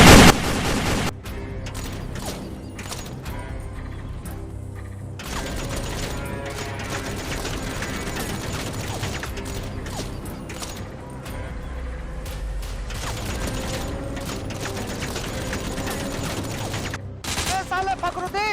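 Rapid bursts of gunfire in an Indian army war film battle scene crackle almost continuously for the full length, dense and loud, with a heavy low rumble underneath.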